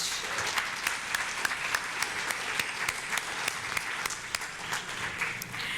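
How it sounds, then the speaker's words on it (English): An audience at a mayoral candidates' debate applauds those on stage, steady crowd clapping at moderate distance with crisp individual claps standing out through the whole round. "Let's give a great round of applause for those that are on the stage."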